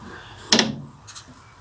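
A door on a piano hinge in a 1962 Cadillac trailer conversion knocks once with a sharp close clack, followed by a fainter second tap, nearby and without speech.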